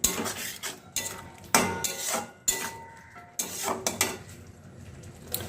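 A spatula stirs and scrapes fried potatoes with chili powder in a pan, making repeated metallic clanks and scrapes in uneven bursts with a soft sizzle underneath, close and clear without talk.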